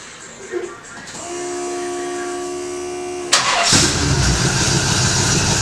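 A car engine starts after a steady whine: a high hum holds for a couple of seconds, then the engine catches with a loud burst and settles into a close, rumbling idle.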